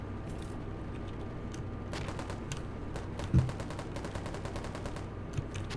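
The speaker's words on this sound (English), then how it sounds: "Oh, someone's shooting at me." Bursts of rapid gunfire in the BattleGon video game, a steady crackle of machine-gun fire with one heavier thump partway through, sounding at moderate distance.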